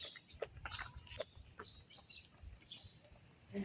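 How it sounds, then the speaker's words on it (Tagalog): Several chickens cluck and squawk in a rural village, short irregular calls heard at moderate distance over quiet outdoor background. "Ang daming manok"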